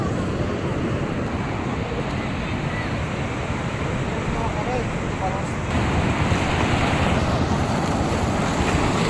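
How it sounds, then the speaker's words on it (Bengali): Sea waves crash onto rocks along a shore in a loud, continuous roar of surf and spray, with wind buffeting the microphone throughout and a slight surge in intensity partway through. "পাথরে বাড়ি খেয়ে সমুদ্রের জল পাড়ে এসে পড়ছে।"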